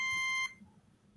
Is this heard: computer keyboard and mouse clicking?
no